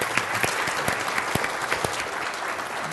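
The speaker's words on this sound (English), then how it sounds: "So, applause please for all 4 of our panelists." Audience applause for four panelists at a civil service event, a continuous crowd of hands clapping at moderate loudness with scattered sharper claps standing out, no talk.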